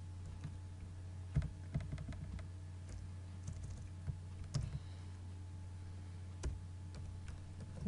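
Typing on a computer keyboard while writing Java, PHP, MySQL and HTML code, scattered soft key clicks and taps at a steady low level over a constant hum, with no talking.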